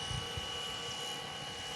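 A FlyWing Bell 206 RC helicopter flies nearby, its rotor giving a steady whirring drone with a brief low thump at the start.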